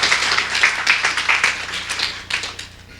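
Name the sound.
audience applause for sponsors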